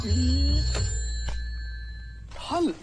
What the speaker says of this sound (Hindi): लैंडलाइन फोन बज रहा है।